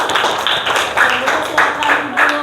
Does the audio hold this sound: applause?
yes